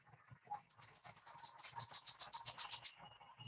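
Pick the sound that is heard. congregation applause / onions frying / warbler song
warbler song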